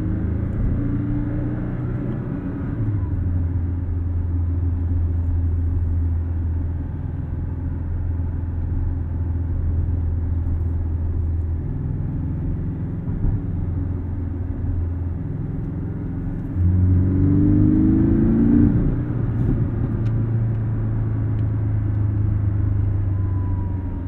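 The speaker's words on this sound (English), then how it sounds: "the Flat 4 sounds a lot like the older air-cooled cars. It's got that raspier, deep down tone" Porsche 718 Cayman S with a flat-four engine and PDK gearbox, heard from inside while driving: a steady, raspy, deep engine drone with audible gear changes and a swell of revs near the end, no talk.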